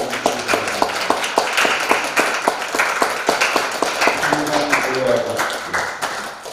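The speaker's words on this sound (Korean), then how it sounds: "축복합니다. 박수." A church congregation claps to bless a visiting missionary family, with quick, rhythmic hand claps that continue steadily from start to finish and fade slightly at the end.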